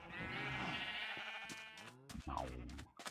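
In-game sheep bleat from a survival playthrough, one long quavering baa followed by several short clicks and footstep-like taps, near and clear.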